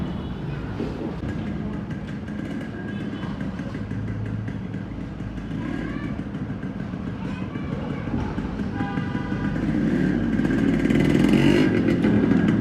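A Yezdi two-stroke motorcycle runs with a steady engine drone that rises louder toward the end, heard against outdoor background noise.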